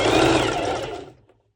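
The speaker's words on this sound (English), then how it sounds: "I'm doing a basting stitch to have first, because I'm going to sew over 4 layers of fabric" A sewing machine running a long basting stitch through four layers of fabric, a loud close whirring buzz for about a second that winds down and stops.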